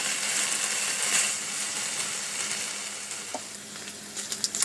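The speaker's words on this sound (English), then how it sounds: "Now you cook your bacon however you like it if you're using it." Streaky bacon fries in a pan with a constant close hiss and crackle, a few light spatula or pan clicks near the end, no voices.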